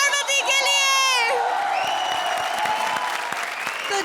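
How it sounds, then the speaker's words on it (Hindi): A studio audience at the Comedy Circus TV comedy show applauds and cheers loudly for comedy performers after a qawwali act, with whoops and shouts over steady clapping that follows a brief sung or musical phrase. "जोरदार तालियां कपिल और पार्वती के लिए।"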